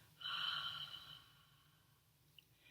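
A soft, breathy exhale through the throat in a yoga breathing exercise, like a gentle sigh or misting breath, fades away into quiet.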